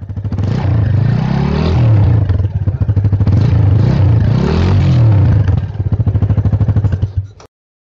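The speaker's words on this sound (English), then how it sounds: "Bike's exhaust is having a midship muffler which produces a crisp sound." Yamaha FZ-250 motorcycle with a 250cc engine and midship muffler revs loudly up and down in several close, crisp surges, then cuts off abruptly.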